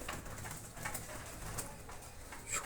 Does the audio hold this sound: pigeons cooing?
yes